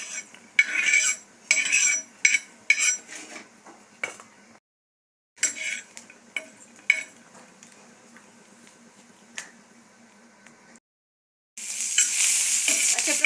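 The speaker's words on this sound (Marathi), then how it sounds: "त्यानंतर मी मिरची आणि लसण पण थोडासा भाजून घेणार" Green chillies and garlic roasting in a pan, with bursts of light crackling and clinks from a spatula scraping and stirring, broken by short silent gaps and ending in a loud, steady sizzle.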